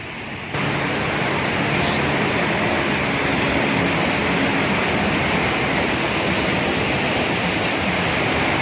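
A waterfall beside the Kedarnath trekking path near Rambara roars in a dense, steady rush of falling water, loud and close, with no voices.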